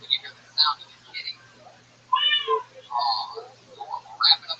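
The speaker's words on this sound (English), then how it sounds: "60 seconds up, and you hear the sound of the kitty" A cat meow sound effect, played as a cue that a comedian's sixty seconds are over, gives a string of several quick, clear meows in an irregular rhythm, close and fairly loud.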